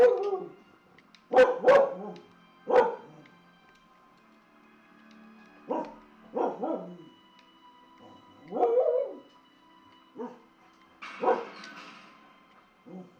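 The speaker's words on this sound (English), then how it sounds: "And the second I let go of her, she goes straight to bark." A dog in the game Hogwarts Legacy barks and yips in scattered bursts, several short barks and a few whimpering yelps spread across the stretch with quiet gaps between them.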